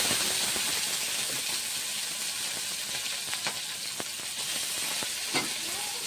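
Ginger, bay leaf and tomato sizzle steadily in hot oil with already-fried chilies, a continuous close crackling hiss with a few sharper pops, and no voices.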